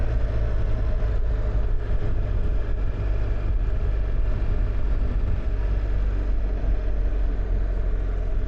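A BMW R1300GS motorcycle engine hums steadily while riding, a smooth, continuous low drone mixed with wind rush, constant in level throughout, with no speech.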